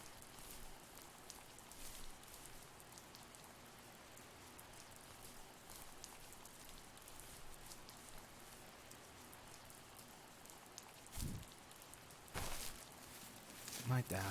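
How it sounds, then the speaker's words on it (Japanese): Soft, steady rain falls in the video game The First Tree, a quiet hiss of drops kept low throughout, with a couple of brief louder rustles near the end. "時々降ってくる雨の音がね、"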